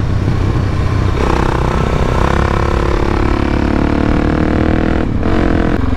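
A motorcycle fitted with an FMF exhaust roars loud and close while riding, its engine note climbing and settling through gear changes, with a brief throttle drop near the end and no talk.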